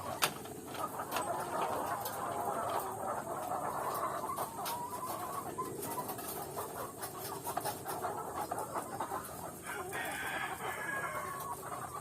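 A flock of laying hens clucking and murmuring constantly in a poultry house, a dense layered chorus with occasional louder calls and a brief crow-like rise near the end, steady and moderately close.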